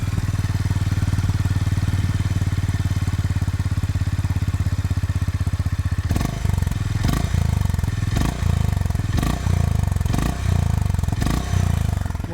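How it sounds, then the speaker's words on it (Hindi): A Honda CB350RS motorcycle idles close by with a steady, deep thumping exhaust note, then gets several short throttle blips that rise and drop back to idle, with no talk over it. "एक बार CB350 RS का सबसे पहले एग्जॉस्ट नोट सुनते हैं। ये है इसका इनिशियल एग्जॉस्ट।"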